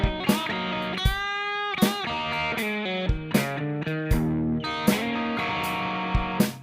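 Blues guitar licks from a solo, played with a distorted tone over a steady drum beat, with sharp repeated drum hits and bending, sustained guitar notes throughout.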